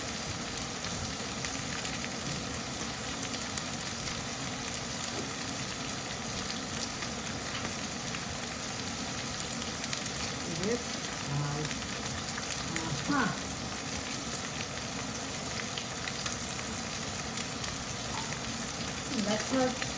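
A steak cooked to medium rare sizzles in a hot pan with a loud, steady crackling hiss that carries through the whole stretch, along with faint scraping from stirring and handling.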